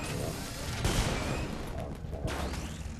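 Miracle Gun alternate fire in Saints Row 4, a dense spray of machine-gun bursts mixed with rocket and firework-like blasts, steady and loud throughout with a sharper burst near the middle and a backing theme underneath.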